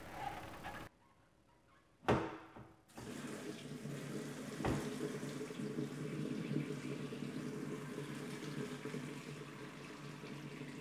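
Cheese curds and whey being drained into a fine mesh colander in a kitchen sink: a sharp knock, then a steady pouring, splashing wash of liquid that runs on evenly at moderate volume, with no talking.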